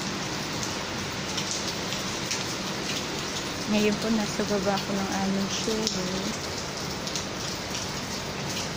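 Steady rain hiss fills the background on a street in Brunei while a person talks over it, the downpour sounding moderate and continuous throughout.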